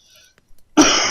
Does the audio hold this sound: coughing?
yes